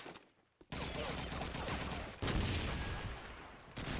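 A grenade and gunfire in the Call of Duty 2 video game during a competitive cup match, with a sudden burst of loud, close explosive rattling that follows a brief quiet gap and continues in dense volleys.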